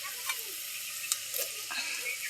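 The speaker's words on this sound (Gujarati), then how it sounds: "લસણ નાખી જાઓ, નાખી જાઓ વઘારે." Garlic tempering in hot oil gives a close, steady sizzle and crackle with a few sharp pops, heard alone.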